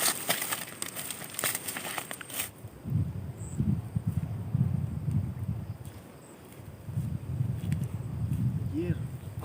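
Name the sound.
strong wind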